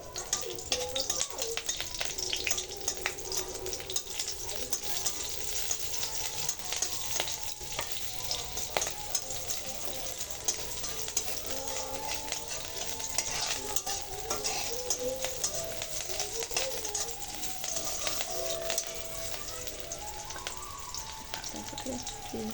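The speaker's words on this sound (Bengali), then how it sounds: "তারপরে কড়াই অল্প করে সর্ষের তেল দিয়ে দিয়েছি। এবার লঙ্কাগুলো ফোড়ন দেবো।" Green chillies sizzle steadily while being tempered in hot mustard oil in a kadai, a constant crackling fry with frequent scraping stirs close by.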